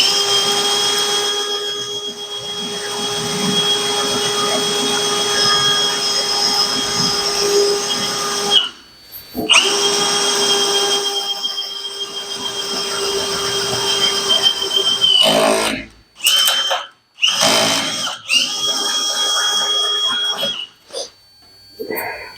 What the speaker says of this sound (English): Now I'm going to back drill my holes so that I'll accept the E-stop.